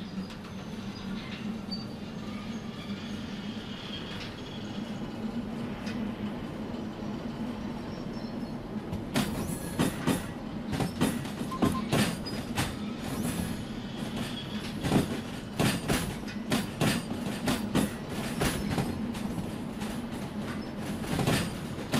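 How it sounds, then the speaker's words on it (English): A train hauling wagons picks up speed on the track in Derail Valley, a steady low rumble joined partway through by a quickening clickety-clack of wheels over rail joints, with no talking. "Let's get it up to speed here and then just release the wagons and stop the train."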